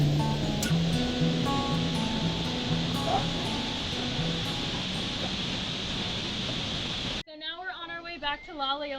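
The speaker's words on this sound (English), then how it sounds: "Alright guys, we're coming into the waterfall now." La Leona waterfall on a hike, a loud, constant wash of falling water filling most of the stretch before cutting off abruptly, after which a person talks.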